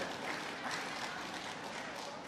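Crowd at a table tennis quarterfinal, Sun Yingsha against Chen Xingtong at US Smash, reacting with a broad, steady murmur of oohs and scattered applause, fairly distant and continuous, with no clear speech on top.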